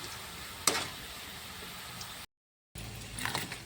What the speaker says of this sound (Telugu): గోల్డ్ కలర్ వచ్చేంత వరకు వేయించుకోవాలి